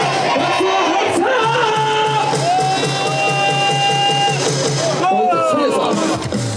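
A loud stadium crowd at a KBO baseball game chants a rhythmic cheer for an NC Dinos player, with voices rising and falling together in repeated bursts over constant crowd noise.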